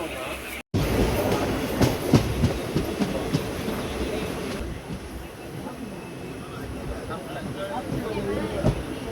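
Pongal Special Fare Express train running on rails between Kodaikanal Road and Dindigul, a steady close rumble of wheels with repeated clicks, heard from on board with faint voices underneath.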